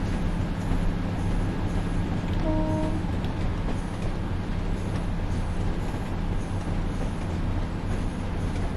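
A Class 142 Pacer diesel railbus runs between Ormskirk and Preston in a train simulator game, giving a steady, loud rolling rumble throughout, with a brief tone partway through.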